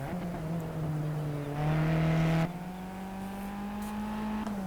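Race car engine in Project Cars, heard in a replay: a loud, steady droning roar holds close throughout, swelling briefly louder and higher in pitch before settling back into a sustained engine tone.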